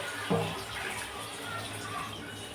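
Water goes into a pot of snakehead fish (shol) curry cooked with ginger-cumin paste, tomato and green chili paste, heard as a soft, steady pouring hiss that runs the whole stretch at a modest level.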